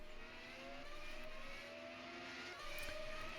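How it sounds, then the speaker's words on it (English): Super Formula race cars idle and rev at the end of the pit lane at Suzuka while warming up. Several engine tones hum faintly and steadily in the distance, with a slight swell toward the end. "You can hear a lot of cars waiting in the end of the pit lane just to get themselves all warmed up."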